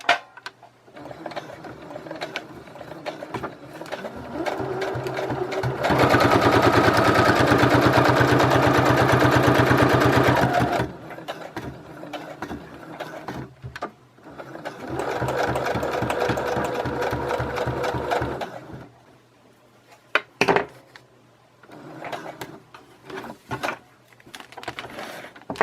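A sewing machine back-stitches string through the layers of a handmade paper bag journal, making two loud, steady bursts of rapid stitching separated by pauses, with no talking.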